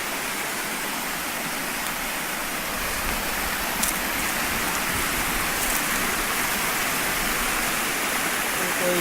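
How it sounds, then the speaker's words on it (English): Purling Brook Falls in Springbrook National Park, a waterfall of roughly ten metres dropping beside a creek and footbridge, heard as a steady, loud broadband rush of falling water from fairly close, unbroken throughout. "the waterfall."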